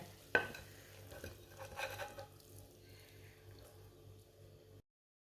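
Mooli (radish) curry is spooned from a pan onto a plate. A sharp metallic clink is followed by soft, scattered scraping and shuffling, all faint and close, fading to silence at the end.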